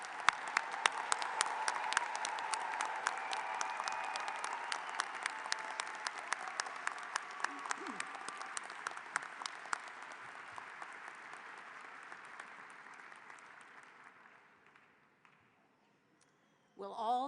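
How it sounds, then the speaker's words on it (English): A large audience at a graduate school commencement ceremony applauds steadily with dense, sustained clapping that slowly fades out over about fifteen seconds, followed by near silence and a brief final sound. "Let's give a round of applause to our doctoral recipients."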